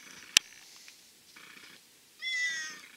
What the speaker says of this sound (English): my last cat.